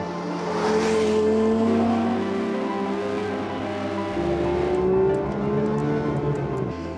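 A stationary Porsche 911 (992) GT3 Touring engine revs up and settles repeatedly, its rising and falling tones clear and close with a steady idle underneath and no talk.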